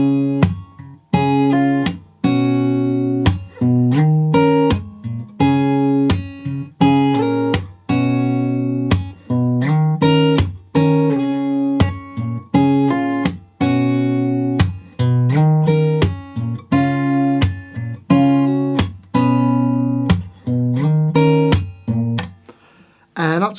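Guitar plays the opening two lines of a song at a slightly slowed pace, with steady plucked notes and strums ringing close and clear throughout, no voice over it.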